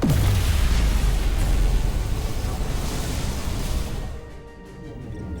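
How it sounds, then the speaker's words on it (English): A dilithium explosion in the Star Trek: Resurgence video game booms heavily at the start, then rumbles and roars loudly before fading toward the end. "Dilithium explosion."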